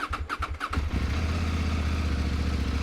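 A CF Moto 800 MT motorcycle fitted with an SC Project exhaust cranks with several quick starter whirs, then catches and settles into a loud, steady, deep idle rumble, close by with no talk.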